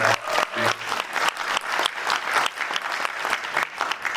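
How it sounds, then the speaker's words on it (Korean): Sustained audience applause at a children's group home day event, a dense, steady wash of clapping from a large crowd filling the whole stretch without pause. "다시 한번 큰 박수 부탁드리겠습니다"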